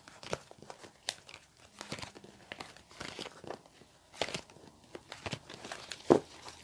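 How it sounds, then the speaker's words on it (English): Tarot cards being mixed by hand, giving a run of soft papery crinkles and brushing flicks with a few sharper snaps, close and fairly quiet, with no voice over them. "Let's just mix the cards up."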